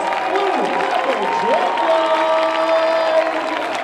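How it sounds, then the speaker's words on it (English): An audience claps and cheers steadily for the Seahawks Blue Thunder drumline at Band Jam 2023, a dense, continuous wall of applause with crowd voices mixed in. "Let's have a round of applause for the Seahawks Blue Thunder"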